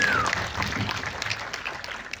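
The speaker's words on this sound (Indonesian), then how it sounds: "Tepuk tangan buat mereka." Short burst of applause from an audience at a film press conference and cast reveal, moderately quiet, a steady crackle of many hands with a brief whistle-like tone at the start.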